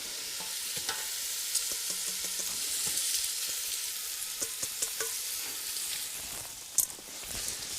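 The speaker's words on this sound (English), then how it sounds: "Then each piece will shake off and pop into the pot with the bacon fat and the carrots." Floured eel pieces frying in bacon fat with carrots in a pot, a continuous hissing sizzle with scattered pops and light stirring clicks, a sharper clatter near the end.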